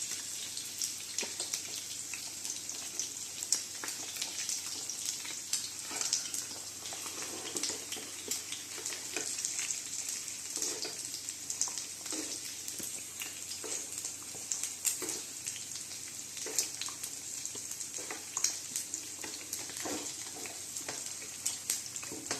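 An egg mixture sizzles steadily in hot oil in a pan, a continuous bright hiss with scattered small pops and crackles, fairly close and unbroken for the whole stretch, with no voices.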